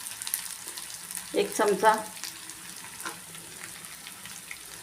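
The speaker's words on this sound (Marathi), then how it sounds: "छान फ्राय करायचे आपल्याला। त्याच्यामध्येच आपण एक हळद घालून घेऊ, थोडी धनेपूड घालू" Turmeric and coriander powder frying in a pan of hot oil for a vada pav tadka, with a short burst of sizzling and stirring in the middle that fades to quiet crackle, a voice speaking briefly.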